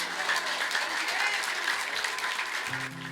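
Steady, dense applause from a church congregation, many hands clapping together close by, holding for a few seconds before cutting off abruptly, with a voice heard at the end.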